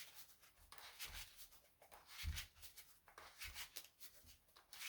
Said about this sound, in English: So let's just give that a nice shuffle.